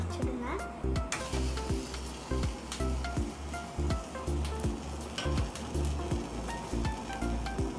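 Vegetable curry sizzling in a pan with repeated scraping and flipping strokes, rhythmic spatula clatter every second or so over a constant frying hiss, loud and close.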